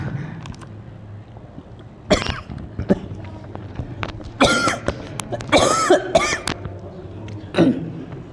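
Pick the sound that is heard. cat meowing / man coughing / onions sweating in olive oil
man coughing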